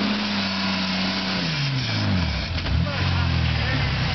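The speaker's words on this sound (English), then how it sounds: "No, that was a backfire." Exhaust backfire from a Ford Ranger pickup: a steady, loud engine drone sags in pitch, then a brief burst of pops cracks through midway before the motor climbs again.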